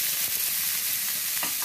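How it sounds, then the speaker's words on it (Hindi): Sliced onions frying in hot oil with spices for a chole masala, a loud, steady, close-up sizzle and crackle with faint stirring. "अब हम इसमें प्याज ऐड करेंगे"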